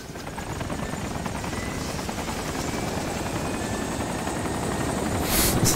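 A helicopter in the video game DayZ lifting off, its rotor chopping in a loud, close, continuous throb that builds slightly toward the end, with no talking.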